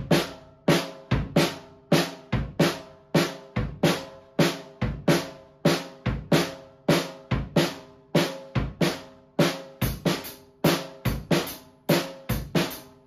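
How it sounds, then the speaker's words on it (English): A drum kit plays a steady three-beat Viennese waltz pattern, with strong accented hits and cymbal sizzle repeating evenly throughout, close and clear with no talking. "the basic Viennese waltz is going to sound like this"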